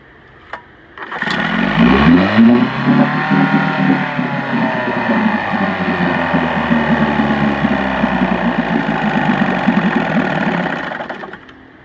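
A vintage Evinrude Model 5516 outboard motor runs in a test barrel, starting up with a sharp catch and then holding a steady, loud buzzing idle for about ten seconds before cutting off.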